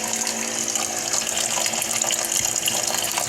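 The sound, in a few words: water dispensing from a water unit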